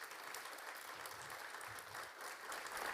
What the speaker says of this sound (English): We need a round of applause for Becky.